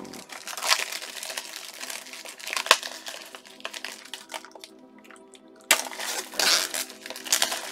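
A plastic wrapper is crinkled and torn open partly with the teeth, giving close, loud bursts of crackling and rustling with a quieter pause in the middle.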